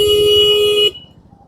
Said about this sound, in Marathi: मेरे को हॉर्न मारताय.